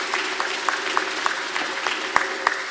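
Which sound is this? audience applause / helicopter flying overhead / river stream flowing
audience applause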